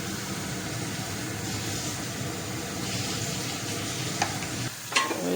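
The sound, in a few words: prawns frying in a pan with spices and salt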